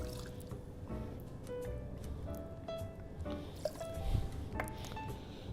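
Raspberry vodka poured into a cocktail measure, measuring 45 ml for a raspberry lemon drop; a soft, quiet liquid trickle with small drips sits low beneath steady background music.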